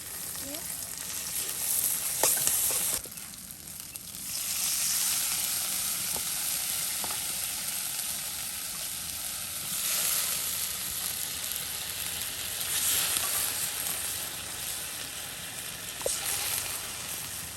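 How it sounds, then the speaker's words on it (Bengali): Fish sizzling in a pan as it fries in ground spice paste, a steady close hiss that swells and eases with occasional stirring clicks. "মাছগুলো সুন্দর করে মশলায় কষিয়ে নেওয়া হবে"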